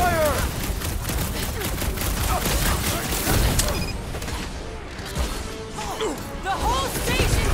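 Gunfire and crashing impacts during a firefight in the video game Guardians of the Galaxy, with bursts of shots, clanks and mechanical creaks crowding the mix while voices shout over the chaos.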